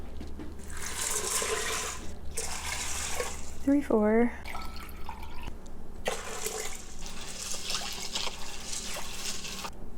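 Five cups of water run steadily into an Instant Pot for several seconds, a broadband rushing splash, with a brief spoken phrase midway.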